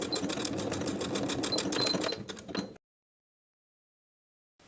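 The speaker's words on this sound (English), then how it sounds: "I'm going to baste that section in place within the seam allowance" A sewing machine runs fast and steady, basting elastic onto a dress sleeve, a close rapid stitching whir for about two seconds before stopping into silence.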